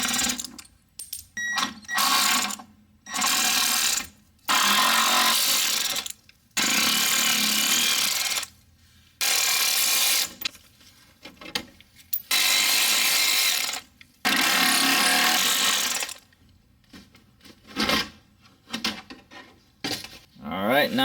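Ratchet clicking in repeated loud bursts while removing 10mm bolts from the front radiator support of a 2007 Toyota Highlander Hybrid, each run of rapid ticking separated by short pauses.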